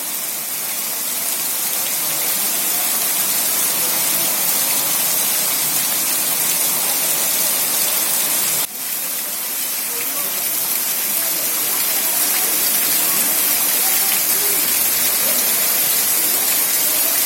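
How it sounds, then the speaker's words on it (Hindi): Heavy rain pours over the town of Chachoda Binaganj, a dense steady roar of water that stays loud and unbroken throughout, with a brief dip midway and no voices. "चाचोड़ा बीनागंज नगरी में झमाझम बारिश शुरू हुई"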